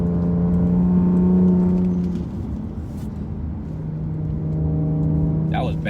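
An Infiniti Q50 on coilovers accelerates hard through a tight corner on a winding road, its engine drone loud and steady with a sustained low hum that dips mid-turn and then rises again.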